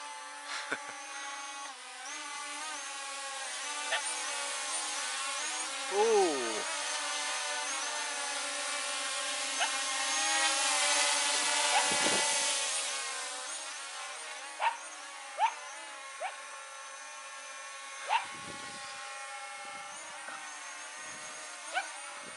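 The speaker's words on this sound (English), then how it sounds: "flying the drone" A small drone hums steadily with a high, whining buzz at an outdoor festival on a farm, lasting throughout and swelling slightly as it passes, with a few sharp knocks and clicks nearby.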